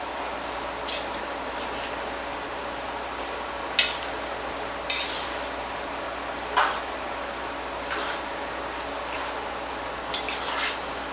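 Garlic shrimp pasta with fresh parsley being stirred in a pan, scattered clinks and scrapes of a utensil against metal over a steady background hiss.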